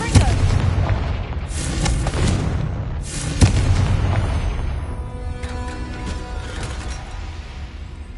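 In the Hogwarts Legacy game, Confringo spell blasts go off as repeated loud booming explosions, several sharp hits spaced about a second apart. Each decays into a crackling, ringing tail that fades into a quieter shimmering tone.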